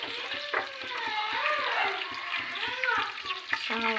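Cumin seeds sizzle and crackle in hot oil while cooking for a cauliflower curry, a steady frying hiss that runs throughout beneath a wavering tonal sound.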